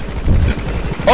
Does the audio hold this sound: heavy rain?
no